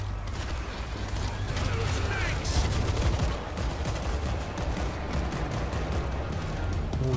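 A mounted turret in the World War Z zombie shooter fires continuously, a dense rattling barrage mixed with game noise that holds steady and loud throughout.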